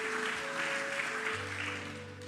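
A church congregation claps together in a sustained, even wash of applause, moderately faint and steady throughout, with a faint tonal hum underneath.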